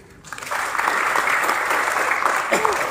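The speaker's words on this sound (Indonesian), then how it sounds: "Tepuk tangan dulu." Steady applause from an assembled crowd at a school farewell ceremony for twelfth-grade students in Nabire, rising quickly and holding as a dense, fairly loud wash, with a voice briefly cutting in near the end.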